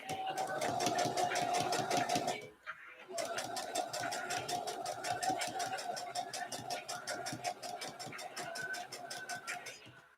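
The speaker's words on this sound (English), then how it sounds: "let's get this other row of stitching going" A sewing machine stitching a row of fabric, running in a steady rapid stitching rhythm with a brief pause near the start, close and fairly loud.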